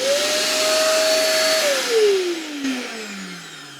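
A vacuum cleaner runs loudly inside a C25 CityCamper camper van, a steady broadband roar with a high motor whine that holds for about a second and a half, then falls in pitch as the motor winds down, with no talking.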